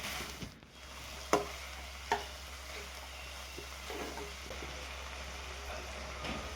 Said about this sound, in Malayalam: എല്ലാം കൂടി നന്നായി ഒന്ന് വഴറ്റിയെടുക്കുക